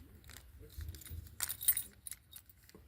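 A bunch of keys for a winch, diesel tank and winch ignition jangles in hand, with light metallic clinks rising and falling over a couple of seconds, close and fairly quiet.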